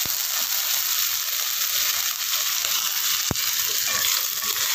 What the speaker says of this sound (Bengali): রসুনটা বেশি দিতে হয়, তো এটাকে একটু ফ্রাই করব